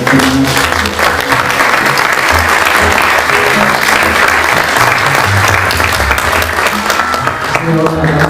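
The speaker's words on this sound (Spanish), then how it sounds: "Le brindamos un fuerte aplauso" An audience applauds a priest's talk at a pastoral gathering, loud dense clapping from many hands sustained for several seconds, with voices audible underneath.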